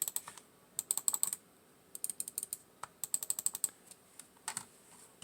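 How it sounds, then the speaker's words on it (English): A G Wolves Skoll computer mouse clicked up close in quick bursts of sharp, light clicks, grouped in rapid runs with short pauses between, with no talking. "Good clicks, easier to click than the EC2B."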